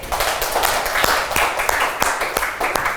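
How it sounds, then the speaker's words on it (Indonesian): Children in a classroom clap together in a burst of applause, a dense, lively patter of many hands with a few sharper slaps standing out, close and fairly loud throughout. "Ya, tepuk tangan sekali lagi."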